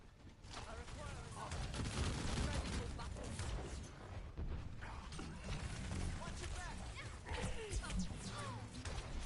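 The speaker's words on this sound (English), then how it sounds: "Here I am shooting my alternate fire because I'm hoping somebody gets hit by it." Zarya's alternate fire in Overwatch launches repeated energy blasts amid dense, continuous battle noise of shots and crashes, with a voice talking over the game sounds throughout.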